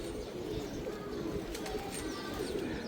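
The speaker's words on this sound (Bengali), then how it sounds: "এই যে কবুতরগুলা" Pigeons coo softly over a steady outdoor background as a flock circles in hot sun, with a few faint calls rising now and then through the low continuous hum.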